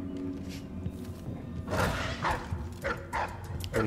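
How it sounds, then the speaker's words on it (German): Dogs bark and yip in the video game Dishonored 2, a busy run of barks over a dense game soundscape, moderately loud, with speech faintly present. "Hier sind sie drin, die Hunde."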